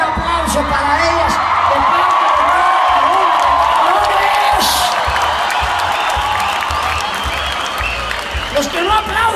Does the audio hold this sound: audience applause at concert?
yes